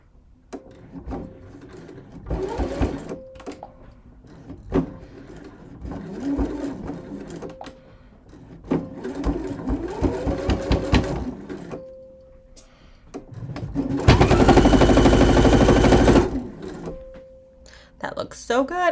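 A sewing machine runs a twin needle through a fashion top in several bursts of rapid stitching, broken by pauses, clicks and handling noises, with a longer, louder run near the end and a person talking between runs.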